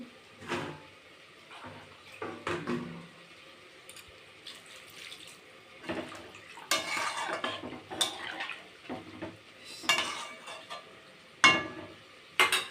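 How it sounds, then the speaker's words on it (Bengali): Water poured into simmering rui fish and cauliflower curry in a pan, with intermittent clinks of a utensil against the pan and splashing bursts of stirring, fairly close and moderately loud, no talking. "এখন আমার প্রয়োজন মতো জল দিয়ে দেব।"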